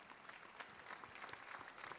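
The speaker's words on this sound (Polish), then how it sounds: "Wielkie brawa, właśnie." Applause from a crowd at a Law and Justice party local-government convention, a steady wash of clapping at a fairly quiet, distant level with no voices standing out.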